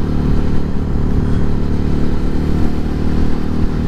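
Suzuki SV650 motorcycle engine running steadily while riding on the road, a loud continuous low rumble that stays level and close with no talk.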